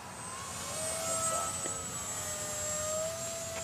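An FMS BlitzRC Cessna RC model airplane with a 55-inch wingspan comes in to land, its motor a faint, steady high whine from a distance with a slight pitch shift, no talking.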